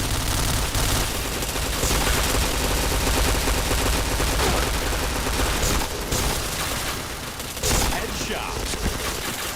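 Rapid, loud gunfire bursts from the Point Blank shooter game run almost nonstop, with short pauses between volleys and a player talking over the shots.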